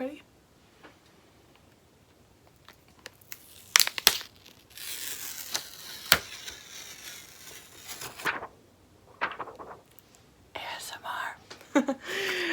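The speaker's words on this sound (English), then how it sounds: "Let me take off the plastic." Plastic wrap crinkles and tears as it is peeled off a KASH Beauty eyeshadow palette, in close, bursty crackling bursts with quiet pauses between, loudest near the middle and end.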